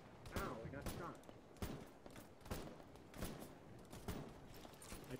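Bursts of video game gunfire crack out in a military shooter, sharp rapid volleys and single shots repeating every second or so, fairly close and loud, with no talking.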